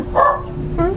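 A dog barks twice, two short yaps a fraction of a second apart, heard nearby over low background noise.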